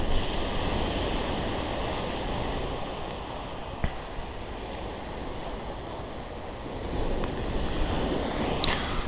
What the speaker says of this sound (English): Nice sandy beach, got lots of stones on it as well.